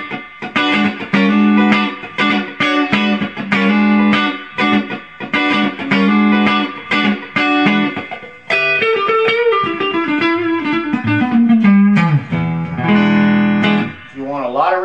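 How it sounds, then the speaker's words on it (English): An electric guitar through a Fender-style amp with reverb set at about 10 o'clock plays a rhythmic chord pattern, then single-note lines and bends, with a moderate reverb adding a light wash behind each note. "I got the reverb on about 10 o'clock."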